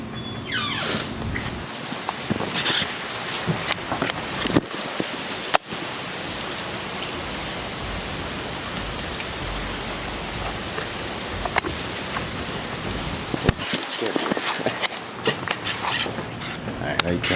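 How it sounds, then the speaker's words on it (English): Heavy rain pours steadily outside, a dense continuous hiss throughout with a few sharp knocks, under someone talking. "it's fucking pouring outside"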